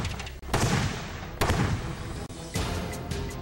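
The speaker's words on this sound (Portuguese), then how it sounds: "Após algumas explosões" Three sharp, loud blasts from a sonic cannon go off at regular intervals, each a sudden boom followed by a rumbling, noisy decay.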